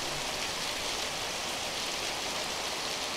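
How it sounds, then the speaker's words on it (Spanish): Rain falling on a street in Caibarién, Cuba: a dense, even hiss of steady rainfall close by, unbroken for the whole stretch with no voices. "ahora sí me atrapó la lluvia"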